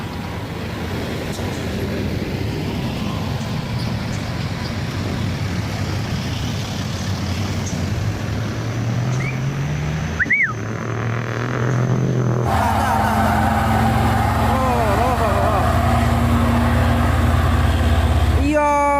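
A loaded truck that cannot make it up a steep hill road rolls backward, a heavy engine droning and straining throughout, with brake squeals and hissing near the end under excited voices.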